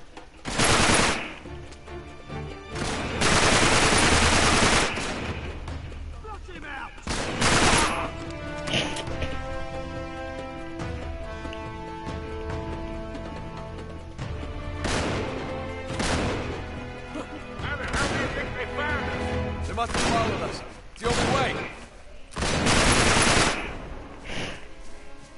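Bursts of automatic gunfire in the video game Uncharted 3, loud rattling volleys that come and go over a steady background, with occasional sharp crashes between them.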